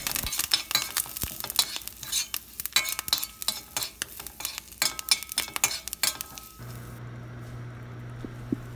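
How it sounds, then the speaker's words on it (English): Urad dal and curry leaves roasting in oil for a tempering, dense crackling and spluttering with clicking stirring, close and fairly loud, then settling to a softer hum near the end. "Roast it very well until urad dal turns light brown."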